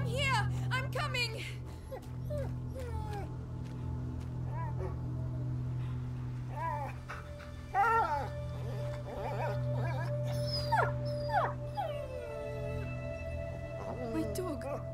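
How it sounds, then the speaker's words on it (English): A dog in A Plague Tale: Innocence whimpers and whines in repeated high, wavering cries over a steady low hum, with brief yelps scattered throughout the long stretch. "My dog!"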